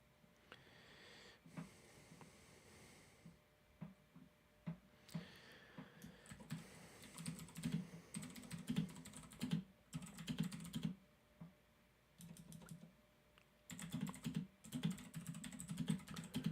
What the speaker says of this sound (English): Sorry, just typing one thing.